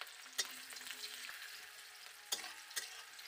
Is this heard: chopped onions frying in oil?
yes